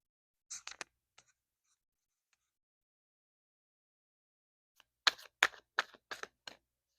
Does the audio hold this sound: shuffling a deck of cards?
yes